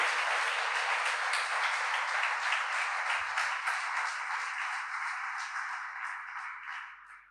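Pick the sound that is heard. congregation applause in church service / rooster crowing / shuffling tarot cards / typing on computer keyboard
congregation applause in church service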